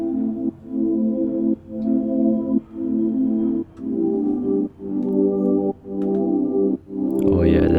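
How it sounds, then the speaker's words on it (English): Sidechained ambient R&B synth pad from Omnisphere, a sustained warm chord that ducks rhythmically about once per second, pumping in a steady pulse, loud and close with no voices. "Oh yeah, that R&B sidechain pad."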